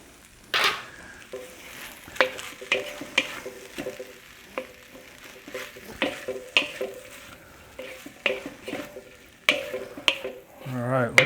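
Turkey meat is added to spicy fried rice in a hot pan, a steady sizzle under repeated scraping and stirring strokes that come in quick irregular bursts, with some voices alongside.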